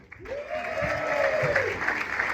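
Comedy club audience clapping as a comedian is welcomed to the stage, a sustained wash of applause under a tonal sweep and some low bumps, fairly loud and close.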